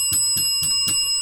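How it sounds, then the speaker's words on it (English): A custom bell rings in four quick evenly spaced metallic dings, loud and close, each with a bright sustained tone hanging over steady background hum. "you got your custom bell on?"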